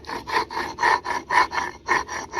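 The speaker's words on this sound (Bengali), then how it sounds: "আমি এবার আদা আর জিরেটাকে বেটে নেব।" Ginger and cumin ground by hand on a grinding stone, a loud rhythmic back-and-forth rasping with about ten even strokes, close and alone.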